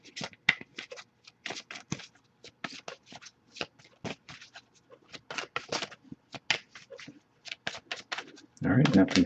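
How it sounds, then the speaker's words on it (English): Tarot cards being shuffled in quick, crisp bursts of riffling flicks, close and fairly quiet, with a louder rustle at the end. "I'll give it a few more shuffles before I give up"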